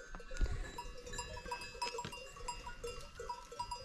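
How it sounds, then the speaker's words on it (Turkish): A herd of goats moves along with bells clinking at irregular intervals and an occasional bleat, fairly faint and outdoors, with scattered knocks and no voices. "Şu keçileri yukarı çıkaralım."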